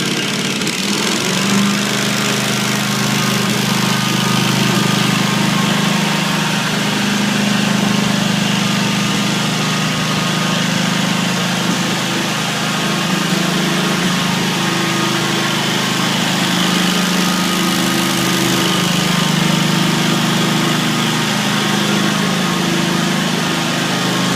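A floor burnisher engine idles at slow idle, a loud, steady droning hum that holds without a break throughout, close by and with no talk over it.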